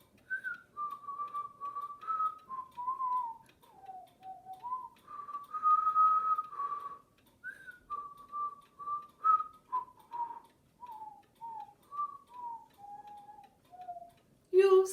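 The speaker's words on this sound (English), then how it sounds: "You whistle a tune and I'll whistle a tune, and we'll whistle a tune together." Someone whistles the melody of a children's song, phrase after phrase, clear and close, with short pauses between the notes.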